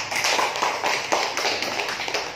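Students in a classroom applaud a student group, a steady patter of many hands clapping at close range with no talk over it.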